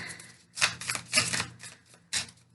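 Tarot card deck being shuffled by hand: three or four brief crisp riffling bursts, close and moderately loud, separated by short pauses, no talking.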